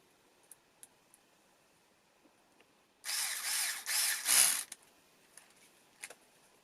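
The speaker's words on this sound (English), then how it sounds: "this is what I like about these electric screwdrivers" Hitachi (HiKOKI) DB 3DL2 3.6V cordless screwdriver driving screws into wheels, a short buzzing motor run in several quick bursts after scattered small handling clicks, close by and with no talk.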